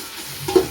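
Small shallots frying in a pan for Tamil Nadu village-style chicken biryani, a brief close sizzle with a quick stirring scrape near the end, no voices.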